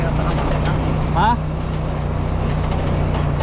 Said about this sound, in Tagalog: Hirap ang makina.